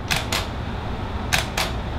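Clicks from a Cactus V5 wireless flash trigger as its button is tapped to fire a flash, heard close up as two pairs of short, crisp clicks over a low background hum. Nobody speaks.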